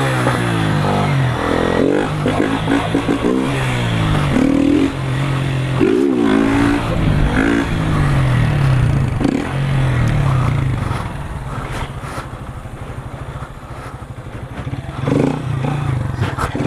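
Motorcycle revving hard while its rider holds a long wheelie down a narrow street: a loud, close, sustained engine roar that rises and falls in pitch with throttle changes, with clattering underneath and no voices.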